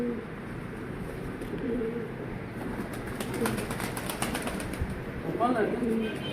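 Pigeons cooing softly beside a brief flutter of wings in a domestic pigeon loft, low murmuring calls with a few clearer coos near the end, heard over steady background noise.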